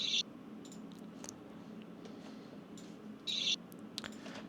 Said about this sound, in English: and an open hat, which just sounds like this